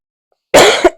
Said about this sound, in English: sorry if that cough was loud.